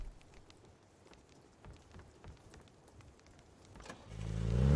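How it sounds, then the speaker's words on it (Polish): In the battle royale game PUBG, a car engine starts up near the end, rising from a low rumble into a loud, close revving after quiet ambient game sounds with faint footsteps. "odpalił samochód"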